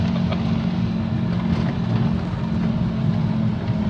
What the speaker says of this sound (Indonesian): Pak Wawan sedang mencoba mengganjal gasnya